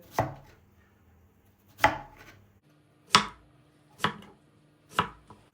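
Five sharp, evenly spaced chopping thuds on a board, close and distinct, with quiet gaps between each cut as potatoes are sliced with a slicer tool.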